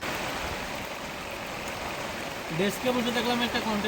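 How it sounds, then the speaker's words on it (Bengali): Rain falls on an open-air kitchen under bamboo on the coast, making a steady broadband hiss, and a voice speaks over it near the end. "এর মধ্যে বৃষ্টি নেমেছে।"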